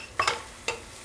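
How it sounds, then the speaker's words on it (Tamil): Crushed spices frying in melted butter for a South Indian keerai stem soup, a brief low sizzle broken by a few quick stirring clicks close by. "பட்டரில் நல்லா வறுத்து விட்டுறலாம்."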